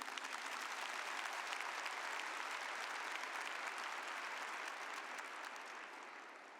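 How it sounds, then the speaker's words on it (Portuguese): An audience at a Catholic talk on Martha and Mary applauds steadily in a dense, even wash of clapping that holds for several seconds, then thins slightly toward the end; no talking over it. "Queria que você aplaudisse Santo Agostinho."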